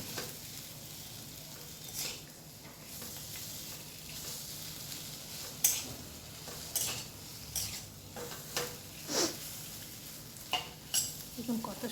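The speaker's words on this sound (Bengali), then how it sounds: "দেখুন কত সুন্দর ভাজাটা হচ্ছে আমার।" Gentle frying in a pan over a low gas flame, a soft steady sizzle broken by occasional scrapes and clinks of a stirring utensil.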